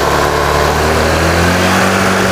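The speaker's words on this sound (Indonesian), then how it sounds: "tarik gas ya" A Honda Vario scooter engine with a charging fault (overcharging) is revved steadily, a loud, continuous buzzing hum held close up for the whole stretch.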